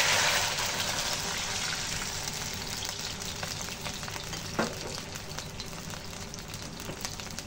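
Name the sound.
water added to chicken soup pot, sizzling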